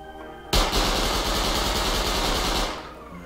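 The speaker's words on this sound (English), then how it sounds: "So let me go ahead and shoot it here so you can kind of see what the shot looks like." A custom SMG in the video game Rust empties a full 24-round clip in one loud, rapid, unbroken burst of about two seconds, starting abruptly and cutting off cleanly, with no talk over it.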